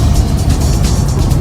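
A Honda CRX car drives with a loud, steady engine roar and road rumble filling a short stretch, close by and unbroken.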